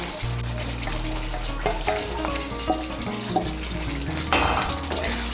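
Fried chicken pieces stirred into butter chicken masala in a pan, with a steady loud sizzle and frying hiss under repeated scraping and clinking of a spoon against the pan.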